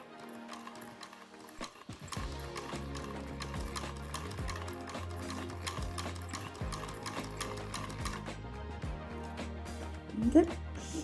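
Essex MK1 miniature sewing machine sewing a chain stitch on a small piece of fabric, a rapid, steady mechanical clatter running close and continuous after a short start.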